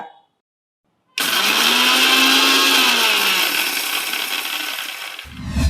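A kitchen mixer grinder whirs loudly as it grinds dried red chillies into a coarse powder, kicking in after a second of silence, with its motor pitch sliding downward before it slows and a rattle sounds near the end.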